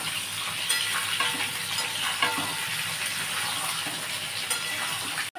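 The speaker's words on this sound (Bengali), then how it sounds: "আগে এঁচড়টা আমি ভেজে নিই।" Boiled jackfruit pieces sizzle steadily in a hot pan as they fry, a dense continuous crackle with occasional stirring scrapes, close and fairly loud with no talking.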